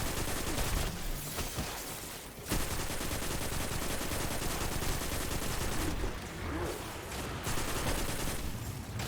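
Sustained enemy gunfire in Destiny 2 inside a lost-sector-style boss area, dense overlapping bursts running nearly nonstop at high level with only brief dips.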